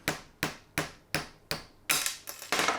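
A hammer taps a part down into place in a garage, about eight sharp metallic strikes in a steady rhythm, close and fairly loud, the last few quicker and more ringing.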